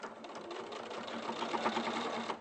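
A sewing machine stitching fabric, a quiet, fast, even mechanical whir with rapid needle ticks through a short burst.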